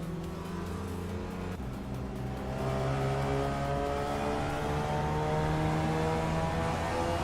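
A Lancia Delta S4 Stradale race car engine in a racing video game drones with a steady harmonic tone, dropping briefly after a shift and then climbing as it revs up and holds at a louder, sustained pitch.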